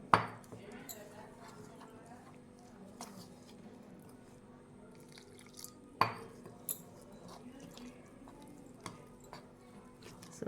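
A spoon stirs fritter batter in a bowl to work out the lumps. The batter is made of flour powders, a little baking soda and water. Soft scraping runs under a quiet room tone, broken by occasional sharp clinks against the bowl.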